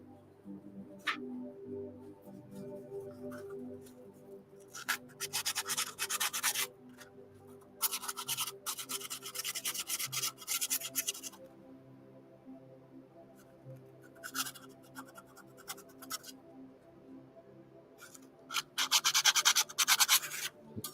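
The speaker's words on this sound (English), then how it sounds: "I have some sandpaper over here." Sandpaper rubbed across a stone in repeated bursts of dry, raspy scraping, separated by short pauses, close to the mic and alone without speech, with a faint steady hum beneath it.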